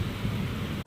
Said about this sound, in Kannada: ಫಸ್ಟ್ ಟೈಮ್ ಇವತ್ತು ಮಳೆ ಬಂತು.